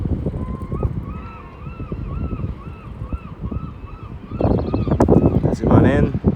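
A departing boat at the Waterfront Station dock in Canada Place sounds a sustained horn whose tones rise over wind, water and a talking voice, growing louder toward the end as the vessel pulls out.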